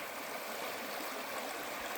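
River water flowing steadily along a canal stretch of the Romen river, a continuous close rushing and gurgling wash like a small stream, with no voices.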